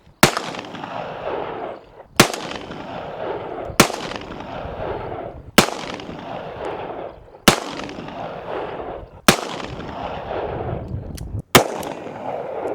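Standard full metal jacket rounds are fired out in the Arizona desert, seven loud single gunshots spaced about two seconds apart, each sharp crack trailing into a rolling echo.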